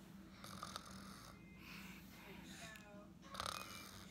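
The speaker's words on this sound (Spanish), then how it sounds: "Él ronca mucho, amigas. Ronca mucho, mucho." A man snoring while asleep at night in bed, faint rasping snore breaths at intervals with soft throaty snorts and a quiet background hum.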